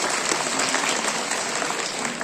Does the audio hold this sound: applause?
yes